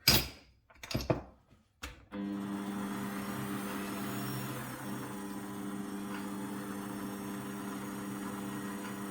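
A 4x6 bandsaw cuts through steel at about 400 RPM, a steady, loud motor hum and blade drone running continuously after a few brief knocks and clatters at the start.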